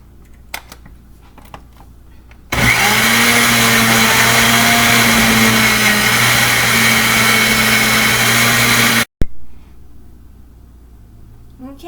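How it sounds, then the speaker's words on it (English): A countertop blender whirs loudly and steadily as it mixes apple smoothie ingredients with a little water, starting abruptly after some quiet handling noises and cutting off sharply near the end. "now I'm going to mix all the ingredients together."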